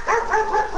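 A dog barks and yips in a quick, loud, close sequence of whining barks with no pause between them and no talk.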